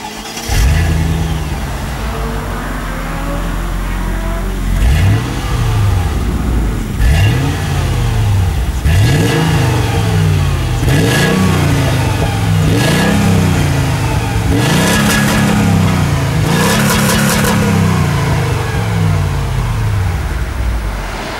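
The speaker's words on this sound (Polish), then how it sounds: "silnik zostaje odpalony, wdrożony w ruch." A 1998 Mercedes-Benz CLK 430 V8 starting up and then revved repeatedly, each rev a rising and falling surge from the exhaust at the rear, loud and close, in a steady series of blips.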